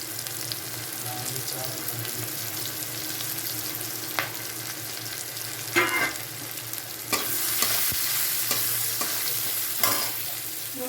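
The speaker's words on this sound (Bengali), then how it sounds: "জিরে ফোড়ন দিচ্ছি, আর গোটা গরম মশলা ফোড়ন দিলাম" Green chillies, cumin seeds and whole garam masala sizzling in hot oil as a tempering for a chicken curry, a constant crackling fry with occasional stirring scrapes and clinks.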